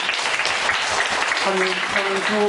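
A church congregation at a Friday prayer meeting applauds a visiting pastor with dense, continuous clapping that fills the room, while a voice speaks over it near the end.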